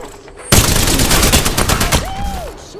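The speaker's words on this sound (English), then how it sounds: "Some drunk is shooting at me." Loud rapid gunfire bursts in Apex Legends, sustained automatic shots starting abruptly and continuing for over two seconds, followed by a whistling tone as the firing stops.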